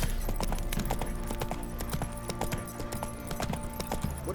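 Roach, a horse in The Witcher 3: Wild Hunt video game, gallops with a brisk, rhythmic clatter of hooves that stays fairly close and moderately loud.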